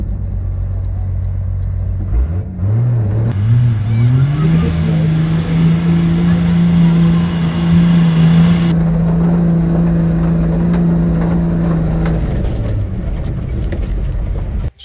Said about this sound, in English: So I took the truck for mud drags.